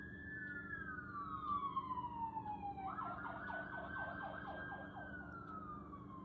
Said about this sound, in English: The sirens, we can count on them, can't we?